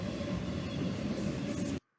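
Norfolk Southern freight train 11N rolling past, a steady low rumble and rail noise holding level before cutting off abruptly near the end.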